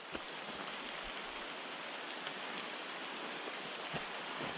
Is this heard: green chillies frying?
no